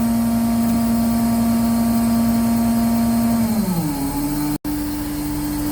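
An aerial ladder fire truck's engine drones steadily during a pull switch check, a close, even hum whose pitch sinks partway through, then holds at the lower note, cut once by a brief sharp break.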